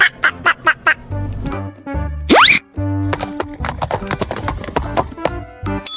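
A horse whinnies once in the middle of a run of rhythmic hoof clip-clops, with light musical plinks and bouncy effects mixed around it, all close and fairly loud.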